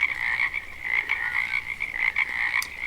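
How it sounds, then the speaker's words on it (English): Dense chorus of frogs croaking at night near a mine, a continuous pulsing trill with rapid repeated calls, steady and fairly close, with no voices. "now we have our melody of frogs"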